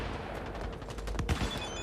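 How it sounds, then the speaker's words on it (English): Rapid gunfire in the video game Cyberpunk 2077, a dense burst of rattling shots running continuously through the moment with a couple of heavier cracks near the end, no talking. "Who is shooting?"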